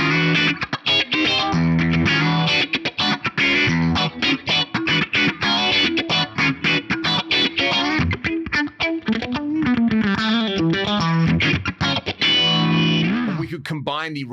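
Electric guitar played through MXR Dyna Comp and Phase 90 effects modeled in a Fractal unit, a clean, compressed funk rhythm with choppy, swirling phased chords, continuous and close.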